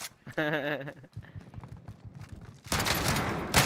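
Gunfire in the battle royale shooter Call of Duty: Warzone, a dense burst of rapid shots filling the last second of the clip loudly, after an in-game announcer voice and scattered softer sounds.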